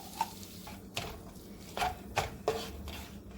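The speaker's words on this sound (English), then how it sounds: "I'm just heating it and stirring it around a bit." Tomato paste being stirred around a hot pan over medium heat, with a handful of soft scraping strokes and light utensil taps at an irregular pace, faint and close, with no voices.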